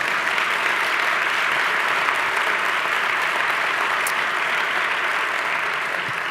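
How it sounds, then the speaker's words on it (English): Audience at a community meeting in a Boys and Girls Club applauding, a continuous even wash of clapping from many hands, close and loud, lasting the whole stretch. "Let's give them a round of applause."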